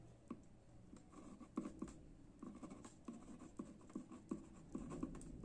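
Pen strokes scratch across paper in short, soft bursts while math problems are written out by hand, faint and close with brief pauses between marks.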